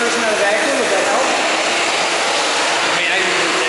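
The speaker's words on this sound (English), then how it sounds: "Vacuum can't keep up." A wet vacuum pulls water off a lab floor with a steady, loud broadband roar that barely changes throughout, struggling against the amount of water.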